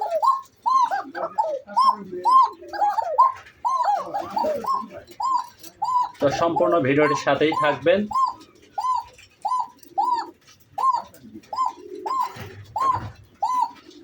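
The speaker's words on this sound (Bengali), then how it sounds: "এখানে কোকা কবুতর যেগুলো আছে সবই মাশাআল্লাহ খুবই অরিজিনাল পিওর ব্লাডের কবুতর" Bashiraj Koka pigeons of red tiger coloring coo in a steady repeating series, close and clear, with someone speaking over a few of the calls and a brief burst of louder bird noise midway.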